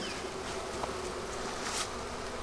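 Honeybees in an opened hive during winter hum in a dense, continuous buzz, close and fairly soft, with a few individual bees whizzing past.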